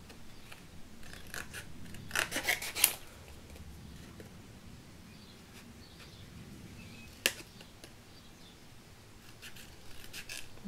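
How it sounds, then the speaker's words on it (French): Scissors cut around a stamped paper design, giving faint, close snipping and rustling with a cluster of sharper cuts early on and an isolated snip later, in a quiet room. "prendre mon ciseau comme ça, et on va venir découper autour du tamponnage"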